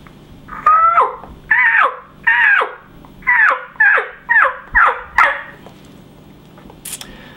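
A mouth diaphragm call imitates a turkey's yelps: eight sharp, evenly spaced, nasal yelping notes in a steady rhythm, loud and close, followed by quiet.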